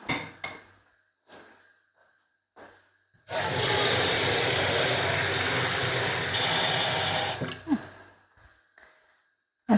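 Tap water pours into a pot for boiling broccoli in a home kitchen, a loud steady rush lasting about four seconds, with brief clinks and soft sounds before and after.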